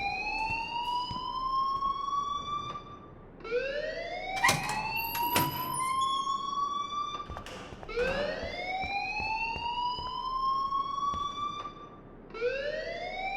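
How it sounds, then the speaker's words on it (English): An alarm rings in the video game Life is Strange, a loud electronic siren of repeated rising sweeps, each climbing and holding before restarting, with a few sharp clicks partway through. "please turn off that alarm since that's your job"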